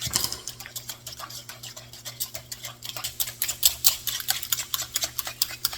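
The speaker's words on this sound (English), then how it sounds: "I'm going to take the whisk," Rapid clicking taps of a whisk beating cookie batter with mashed banana in a bowl, a quick irregular rhythm close by that grows faster and more insistent.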